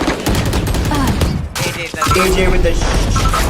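Rapid gunfire bursts from a Valorant esports finals match, loud and continuous, mixed under an excited caster's commentary.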